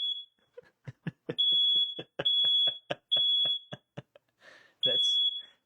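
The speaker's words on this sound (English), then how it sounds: "We just set off the fire alarm at the building." A building fire alarm set off by fog from a fog machine sounds in repeated loud, sustained high-pitched beeps, interleaved with short chirps and bursts of voices talking in the room.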